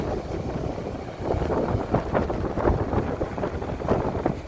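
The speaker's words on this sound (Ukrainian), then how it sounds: "вітер дуже великий і вже надуло у вуха" Strong wind in Turkey in November buffets the microphone in a steady, rumbling roar with gusty surges, loud and close throughout, with no voices.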